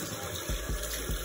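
Tap water runs steadily while a face is rinsed during a skincare routine, a constant hiss broken by a few low splashes, close and alone.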